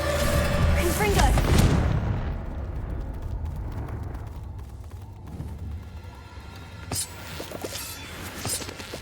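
A Confringo blasting spell in Hogwarts Legacy goes off with a heavy, booming explosion in the first two seconds. The blast rolls off into a long rumble, and fainter impacts and scattered game noise follow.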